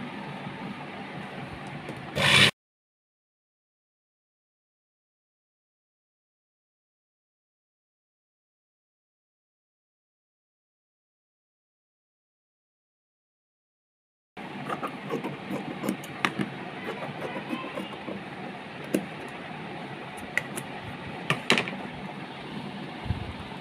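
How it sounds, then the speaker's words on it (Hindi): A sewing machine stitches fabric from the wrong side, whirring steadily and close up, then going silent for about twelve seconds before a longer run of continuous machine noise. "हम इसको सीधे पर इस तरीके से रखेंगे और रॉन्ग साइड से हमें सिलाई लगानी है"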